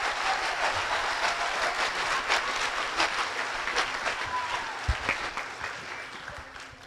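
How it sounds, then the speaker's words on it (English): An audience of parents at a middle school chorus concert applauds the percussionists, a steady wash of clapping that slowly fades toward the end. "Can I have a little round of applause for my percussionists?"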